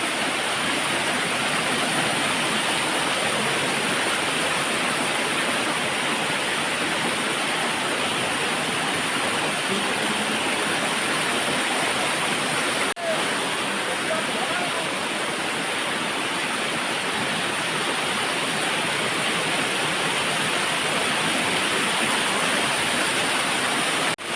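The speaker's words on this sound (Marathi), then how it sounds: "आणि मित्रांनो हा बघा कोकणाचा छोटासा धबधबा" Small forest waterfall in the Konkan during rainy weather, a loud, steady broadband rush of falling water, unbroken and close for the whole stretch.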